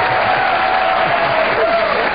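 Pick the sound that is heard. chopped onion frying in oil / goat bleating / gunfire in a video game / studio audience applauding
studio audience applauding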